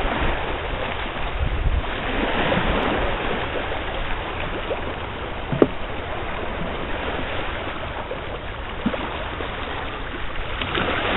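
Continuous wind gusting about 15 to 17 km/h buffets the microphone outdoors at Humber Bay Park on Lake Ontario, a rough steady roar that swells with gusts, with faint lapping water underneath.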